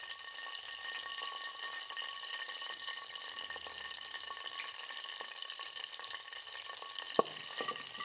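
Cumin and whole spices fry in hot oil for a chicken-stuffed eggplant dish, giving a steady, even sizzle throughout with one sharp click near the end.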